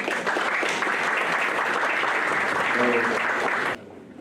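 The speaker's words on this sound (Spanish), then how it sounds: "le damos la más cordial bienvenida al doctor César Azabache Caracciolo, a quien le brindamos fuertes aplausos" Applause from a forum audience welcoming a speaker at an ethics forum in Callao, a steady, full burst of clapping for nearly four seconds that cuts off abruptly.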